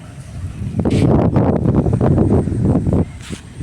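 Strong outdoor wind gusting across the microphone in an open walking area, heavy low rumbling buffets that surge and hold for a few seconds before easing off abruptly.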